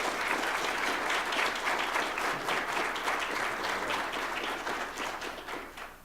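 Warm sustained applause from an audience at a Martin Luther King Jr. Day commemoration at Widener Law in Delaware, 2012, welcoming speaker Peter Harvey, steady clapping that fades toward the end.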